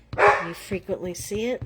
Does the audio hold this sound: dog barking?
yes